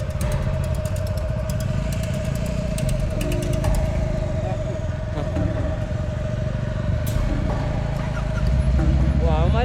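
A vehicle engine labours in low gear on a steep mountain pass road in Ladakh, a steady loud rough drone throughout with a rising whine near the end, close and constant, mixed with people talking.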